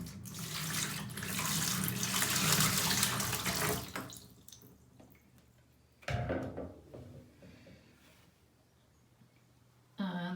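Washing water from scoured sheep fleece pours out into a farm sink, a loud steady gush for about four seconds, then a quieter trickle with a few brief splashes and knocks.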